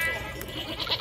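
A goat gives a brief, close bleat lasting about a second, set against a dense noisy background.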